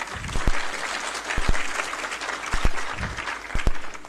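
A crowd applauds at a Yoga Day event in Rajasthan honouring a record-setting group bhujangasana session, with steady clapping throughout and a few sharp, close claps standing out.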